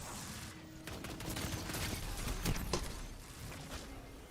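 Rapid hip-fired gunshots crack through a chaotic online shooter match in the Destiny-style Iron Banner mode, a dense run of bursts at steady moderate loudness with some louder spikes mid-clip and no talking.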